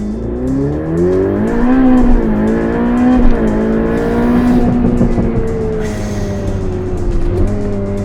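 A Ferrari Pista Spider engine roars loudly from close by, pitch rising and dipping through gear changes as it downshifts and then pulls hard under acceleration, with a sharp shift blip near the end.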